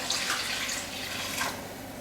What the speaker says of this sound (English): We're going to add in our water.